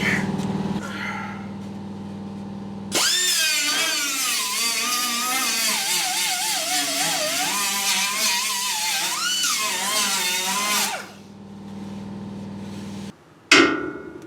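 A power tool grinds and trims material from a Spin Tech frame connector on a Cobra Jet car, a loud, wavering high-pitched whine for about eight seconds, then a pause and a brief final burst.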